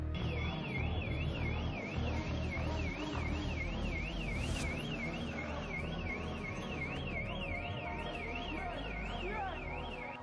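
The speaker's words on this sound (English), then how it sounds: "The store's alarm blares, alerting the area to the crime in progress." A store burglar alarm blares continuously at a London robbery scene, a steady warbling siren that rises and falls without pause amid loud street noise.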